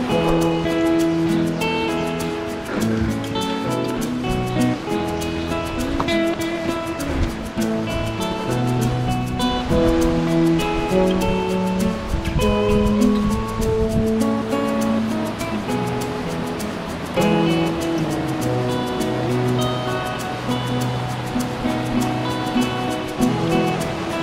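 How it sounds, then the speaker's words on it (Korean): Continuous rushing water of a mountain stream on Bukhansan flows evenly throughout, a full close wash of sound with no speech over it. "오늘은 물소리에 힐링이 더 되는 것 같아요."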